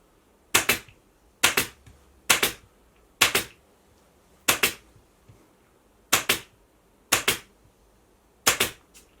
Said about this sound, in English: I take my gun, and I'm going to put 8 staples in again